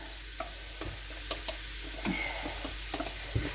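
Onions fry in a soup pot while a wooden spoon stirs them, giving a quiet, steady sizzle with soft scrapes and light knocks of the spoon against the pot, and no voices.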